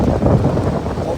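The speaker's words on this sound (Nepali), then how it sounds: "ओ माई गॉड यो अचम्म तरिकाले यस्तो हावा आयो क्या" Heavy wind gusts on a Tennessee hiking trail, a loud steady buffeting rumble across the microphone, with a voice speaking underneath.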